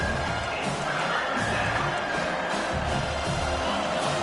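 Home crowd cheering in the NCAA 25 college football video game on a defensive third down, a dense, steady roar of broadband crowd noise that stays loud throughout with a faint voice underneath.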